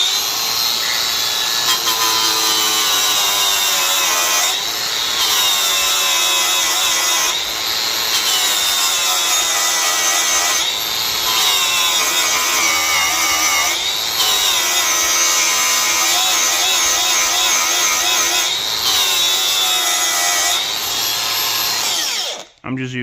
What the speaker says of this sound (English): I'm just using a flap disc because I don't want to grind through the weld